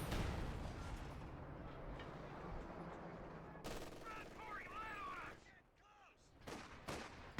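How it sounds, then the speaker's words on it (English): Calliope rocket artillery barrage in a World War II strategy video game, a dense rumbling roar of rapid launches and blasts, followed by sharper gunfire cracks and bursts, with a commentator's voice under the din. "Calliope will come back in with another barrage"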